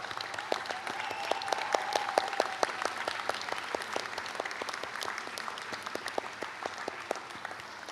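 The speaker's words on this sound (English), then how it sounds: "Let us give them our warmest round of applause." An audience applauds at a university convocation, a sustained wash of many hands clapping at a steady level for eight seconds, with distinct individual claps popping through and no speech.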